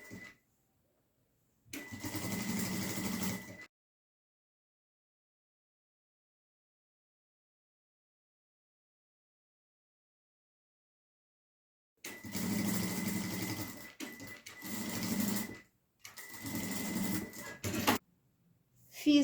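A sewing machine stitches the side of a crossbody bag, sewing a pocket to the lining, in short quiet bursts of mechanical whirring separated by a long silence.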